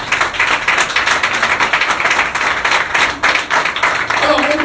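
A church audience applauds for the Lord with dense, continuous clapping from many hands, loud and close throughout.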